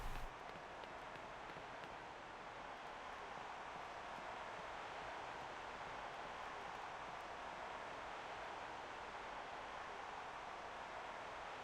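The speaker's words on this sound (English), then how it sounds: "Is it really that windy in here?" Wind in the Pokémon Sword video game blows as a steady, faint, hissy rush, even and unbroken throughout, with no voices.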